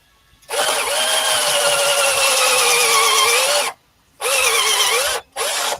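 A wood lathe turns a wooden lamp base, giving a loud, steady whirring and scraping tone in one long pass, then two shorter bursts after brief pauses.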